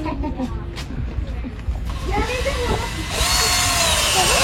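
A power drill drives screws into a solid oak fence, its whine rising and swelling loudly near the end, with people talking in French over it.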